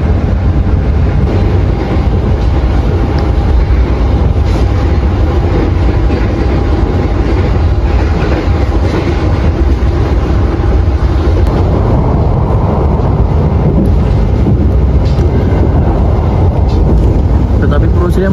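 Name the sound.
Purwojaya passenger train running on the rails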